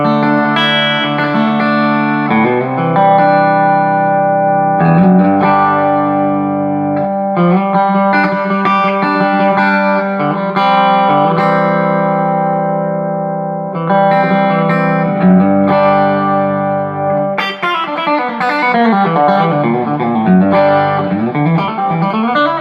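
An electric guitar on its bridge pickup plays a clean tone with a little reverb through a 10-inch speaker in a 12-inch cabinet. Sustained chords and single notes ring out loud and close, with no talking.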